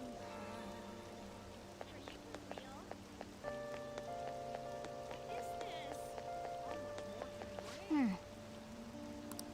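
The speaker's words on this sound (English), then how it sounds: "it's raining, so you wouldn't be out here anyway" Steady rain patters softly beneath background music in Persona 5 Royal, a constant even hiss with no breaks.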